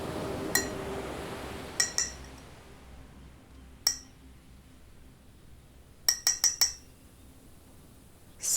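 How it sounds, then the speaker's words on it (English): Something small taps against a glass bottle from inside, a few faint, isolated clinks scattered over a quiet background, including a quick cluster of three or four near the end. "Something taps against the glass from within."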